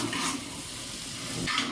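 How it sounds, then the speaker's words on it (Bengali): Mutton sautéing in a pressure cooker on a gas stove, giving a steady sizzle and frying hiss with brief stirring swells near the start and end. "গ্যাস ওভেনের এক ধারে মাটনটা কষিয়ে নিচ্ছি প্রেসার কুকারে"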